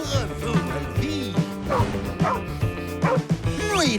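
Alvarez the dog barks in a quick series of sharp, yappy barks close by, roughly every half second, with a few whimpering and yipping notes between them.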